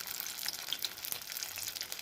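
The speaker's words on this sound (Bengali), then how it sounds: "এই দেখো বন্ধুরা, তেলটা আমার গরম হয়ে গেছে, এটা ভেজে দিলাম।" Khesari dal fritters frying in hot oil crackle and sizzle softly, with small popping bursts over a steady close hiss.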